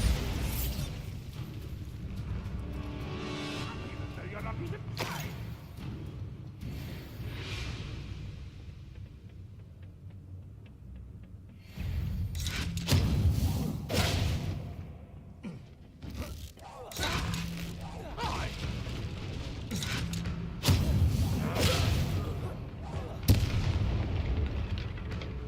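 Spell explosions and magical combat in Hogwarts Legacy, with repeated heavy booms and sharp blasts over a continuous battle roar, some bursts close and loud.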